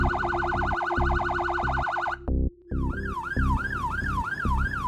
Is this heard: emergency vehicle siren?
yes